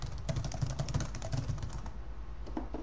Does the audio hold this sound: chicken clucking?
no